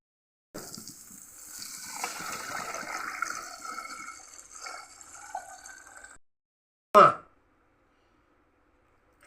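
Water poured into a ground paste of ginger, garlic and dal for a coconut, prawn and egg curry gives a steady trickling pour for several seconds, with a short louder splash after a pause.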